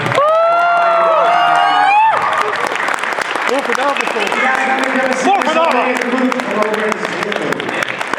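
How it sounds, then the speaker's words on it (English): A convention panel audience at SacAnime 2015 applauds and cheers for the Mighty Morphin Power Rangers cast, loud sustained clapping mixed with whoops and shouts after a brief burst of voices at the start. "let's give a big round of applause"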